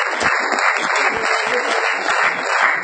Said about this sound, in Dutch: Applaus voor Marcel.